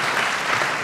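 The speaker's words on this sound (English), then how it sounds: "If you're applauding the question, we're good." Audience applause at a talk by an Israeli ambassador, a brief dense burst of many hands clapping at steady loudness, heard on its own.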